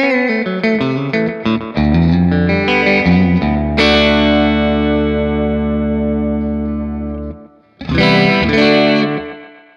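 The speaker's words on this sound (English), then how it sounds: "if we use a short delay time, and that's what the delay knob here does, we can get some kind of slapbacky springy reverb sounds" An electric guitar played through a Wampler Ethereal delay and reverb pedal set to a short delay time, giving a slapback, springy reverb. Loud distorted notes and chords ring out and decay, then a final strum starts near the end.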